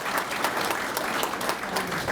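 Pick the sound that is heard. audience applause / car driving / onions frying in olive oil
audience applause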